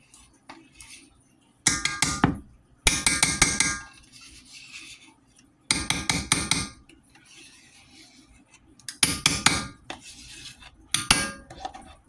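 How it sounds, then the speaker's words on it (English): Utensil clattering against a dish while stirring sour cream, cream cheese and cheese into chicken enchilada filling, in bursts of close, loud scraping and clinking separated by quieter pauses, with no talking. "Now, let's give everything a mix."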